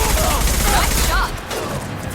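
Gunfire rattles during a firefight in Mass Effect, a dense loud burst of shots with whooshing effects that cuts back to quieter noise partway through.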